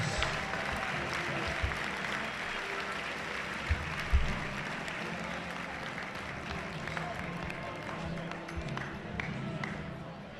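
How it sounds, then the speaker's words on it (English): A high school gym crowd at a girls' district basketball championship gives a moderate round of applause for the Moniteau Warriors, a soft, steady patter of clapping heard from a distance with a few thumps and brief voices underneath. "Let's have a nice round of applause again for the Moniteau Warriors."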